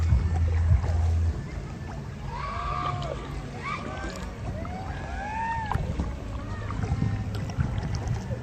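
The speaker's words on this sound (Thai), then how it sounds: "ขอสนุกกับการพายเรือขยักนิดนึงครับ" Kayak being paddled along the Song River, with soft water sloshing and splashing close by beneath a voice talking over it.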